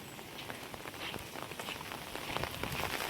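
Steady July monsoon rain patters on a surface in a farming village, a continuous hiss with scattered louder drops throughout.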